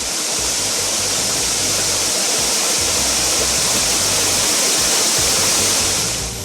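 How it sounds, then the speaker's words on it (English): A waterfall in Ijesha, Nigeria, fed by a watershed near forested ridges, roars as a loud, dense, continuous rush of falling water, steady and close throughout with no voices. "The waterfall, which takes its source from the watershed above it, southwest of the Efwalaye ridges, was first discovered around 1140"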